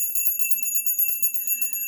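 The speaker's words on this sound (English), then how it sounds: "Ring our bell, Capricorn." A bright bell rings with sustained high metallic tones and a soft pulsing shimmer, steady and clear throughout, with no voices.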